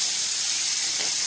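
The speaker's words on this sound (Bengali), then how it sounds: "এবার মাছটা আমি ছেড়ে দিচ্ছি" Bata fish drops into hot oil and fries with a loud, close, steady sizzle and hiss that fills the whole brief moment.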